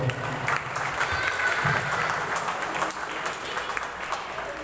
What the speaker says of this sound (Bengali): একটা জোরে হাততালি হয়ে যাবে